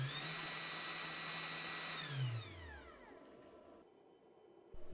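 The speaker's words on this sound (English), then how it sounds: "We can test the spindle." FoxAlien XE-PRO CNC router spindle running unloaded, a loud high whine that winds down with falling pitch and fades to near silence at close range.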